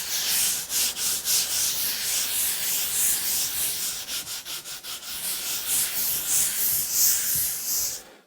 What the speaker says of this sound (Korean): 120번 사포로 한 번 더 사포질을 진행하겠습니다.